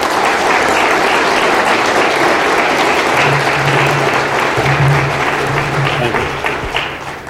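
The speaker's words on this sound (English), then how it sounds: "please join me in welcoming Rim with a round of applause" Sustained loud audience applause fills a BlackHat security conference hall as a speaker is welcomed to the stage, steady throughout with a few cheers or voices rising in the middle before it begins to fade at the end.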